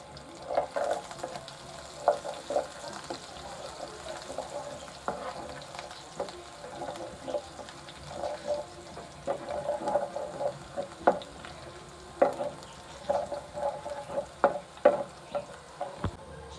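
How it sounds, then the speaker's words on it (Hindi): Garlic and white cumin fry in a little oil in a pan with a steady, soft sizzle, broken by frequent light stirring scrapes and small pops throughout. "पैन में हम थोड़ा सा ऑयल डालते हैं, लहसुन और सफ़ेद ज़ीरा इसको फ्राई कर लेते हैं।"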